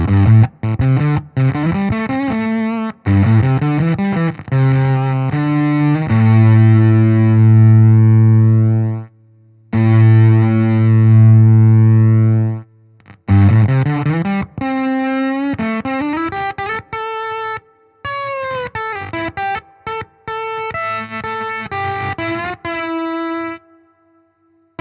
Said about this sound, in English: I'm going to go for some sort of gated synth kind of riffs